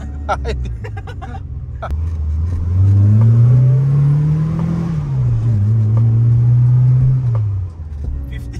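A 1987 Mitsubishi Lancer boxtype's engine rumbles and revs up while driving, holding a steady drone before easing off, with road noise and a few faint clicks around it.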